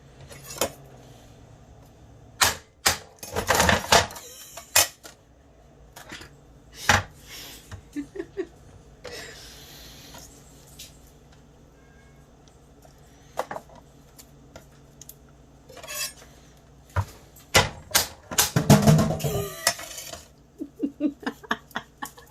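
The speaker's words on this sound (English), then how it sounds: "So for each clove, smash it." Garlic cloves being smashed and peeled for a New York style lasagna, with sharp irregular knocks and thumps on a board, scattered rustles and crackles of papery skin between them, and brief talk now and then.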